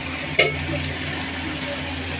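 A roast cooks down in a pan with a steady close sizzle, broken once by a brief scraping stir.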